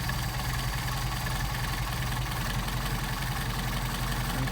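A Mercedes 190SL engine with Solex carburetors, recently remachined, idles steadily in cold weather, a continuous low, even rumble with a faint knocking pulse and no voices.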